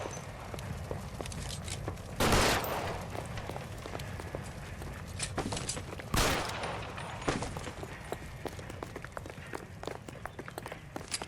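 Gunfire in a police shootout in the crime game LA Noire, with two loud broadband shots standing out over a busy game backdrop and a few fainter reports scattered after.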